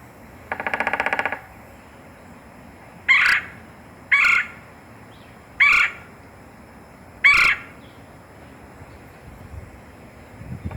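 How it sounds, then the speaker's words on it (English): A red-bellied woodpecker gives a rolling, rattly chirr, followed by four short separate calls spaced evenly a second or so apart, clear against light background noise. "And there is the distinctive chirr of the red-bellied woodpecker."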